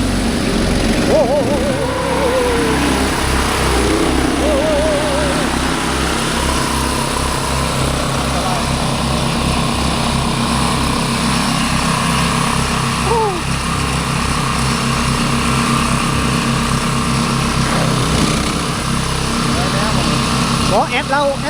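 A boat's small motor drones steadily and close for the whole stretch, a low pulsing hum on a river in a Lao village, with people chatting over it.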